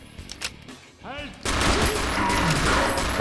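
Gunfire in the Wolfenstein X mod, with a few scattered early shots and a whistling sweep, then a sustained loud burst of rapid fire and explosions. A voice talks over the opening.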